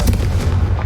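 A Confringo explosive spell in the video game Hogwarts Legacy lands as a close, heavy, booming blast. The rumbling low impact fills the whole short moment, with no voices over it.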